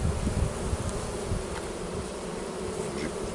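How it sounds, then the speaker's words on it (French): Honeybees humming around a Layens hive built in natural construction, a dense steady buzz up close with a few individual bees passing nearer, no talking. "les abeilles, elles sont toujours dans le nid, je les dérange absolument pas"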